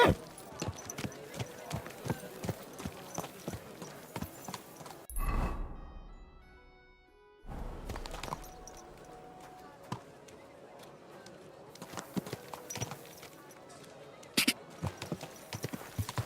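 Rapid hoofbeats of a video game horse clip-clop in a fast galloping rhythm, pausing briefly mid-way before resuming, with occasional sharp thuds.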